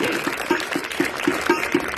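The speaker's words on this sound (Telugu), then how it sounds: "ఒకసారి గట్టిగా చప్పట్లు కొట్టాలి చేతుల్లో వాళ్ళు ప్రతి ఒక్కరు" Children clapping their hands loudly in a classroom, a steady run of evenly spaced claps about four per second, heard close.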